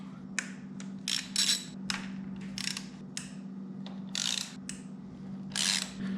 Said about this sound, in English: you do have 4 8mm bolts holding this little plastic cover on. So I've got to remove those first.